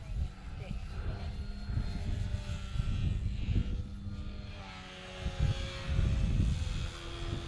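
A clipped-wing Cub RC model airplane hovers briefly in the wind, its propeller engine droning steadily and fairly close, with a speaking voice over it.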